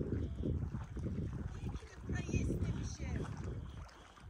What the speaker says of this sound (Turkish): Su dalgaların sesi.